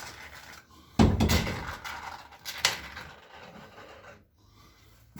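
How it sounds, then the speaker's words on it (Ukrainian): A wooden door of a sauna bathhouse under construction is pushed shut, a sharp close followed by rubbing and a second knock as it settles, with no talk. "Давай двері закрию."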